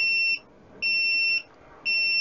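A mini 100-watt SWR and power meter with OLED display, the BG5CQV CQV-SWR120, sounds its high-SWR alarm: a shrill electronic beep in even on-off bursts, roughly half-second tones with short gaps, clear and alone.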